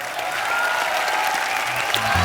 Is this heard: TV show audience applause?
yes